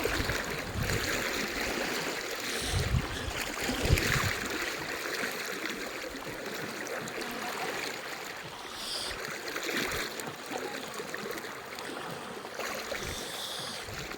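River water flowing and churning during an outing, a steady wash of rushing current with occasional splashes, close by and continuous throughout.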